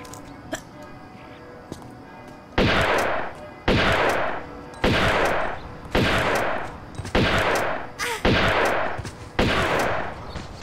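Shotgun blasts in the video game Tomb Raider 2, Venice level: seven loud, evenly spaced booming shots about a second apart, each with a decaying tail, over a steady game background hum.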